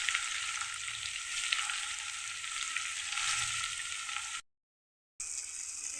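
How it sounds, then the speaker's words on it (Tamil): Onions, tomatoes, broad beans, radish, brinjal and carrot sautéing in oil for sambar, a steady close sizzle with occasional stirring, cut by a brief dead silence near the end before the frying resumes. "அதில் வெங்காயம், தக்காளி, அவரைக்காய், முள்ளங்கி, கத்திரிக்காய், கேரட் போட்டு எண்ணெயில் கொஞ்சம் நேரம் ஒரு 5 நிமிஷம் அந்த பச்சை வாசனை போடுறதையும் வதக்குவோம்"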